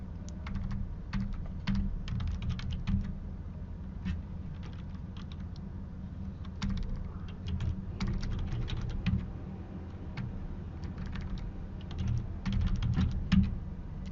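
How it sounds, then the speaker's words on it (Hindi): Someone types a Linux cd command and folder path on a computer keyboard: quick, close bursts of crisp keystrokes over a steady low hum, with no voices. "मैं सिर्फ दो वर्ड लिख रहा हूँ, लेटर लिख रहा हूँ और सीधा टैप कर रहा हूँ"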